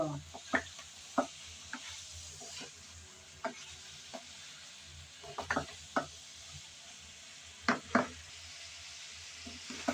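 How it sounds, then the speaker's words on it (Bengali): Fried vegetables with onion, garlic and ginger stirred in a pan while cooking bitter gourd: a low steady sizzle under repeated scraping strokes of a spatula, close but fairly quiet. "ভালো করে নেড়ে চেড়ে কষিয়ে নিতে হবে"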